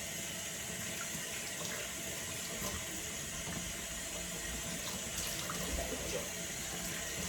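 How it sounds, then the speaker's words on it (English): Water from a tap runs in a steady, soft stream while a child's hair is wetted for shampooing, a continuous gentle wash with no break. "So I'm wetting her hair so I can apply her shampoo."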